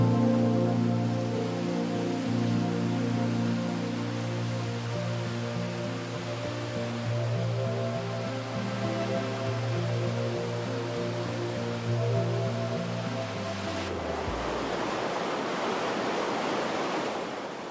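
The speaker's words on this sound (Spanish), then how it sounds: "La cascada de Gavarnie es la mayor de Europa." The Gavarnie waterfall, called the largest in Europe, pours from a great height with a steady, broad roar of falling water that holds throughout, with a tonal backing underneath that shifts partway through.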